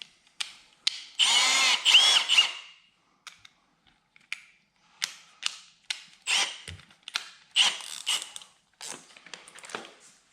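A power drill with a step-up bit bores an almost one-inch hole during a MotorGuide Xi3 trolling motor install on a Bonafide SS127 kayak. One longer whining run is followed by many short, sharp bursts with brief pauses.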